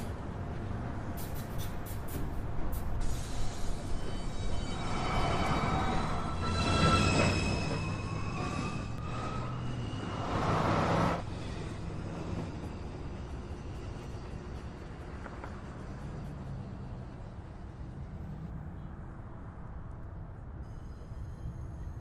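An NYC Subway 2 train pulls out of 207th Street station, rumbling and rising in pitch with squealing wheels and tonal whines, then fading to a lower steady roll.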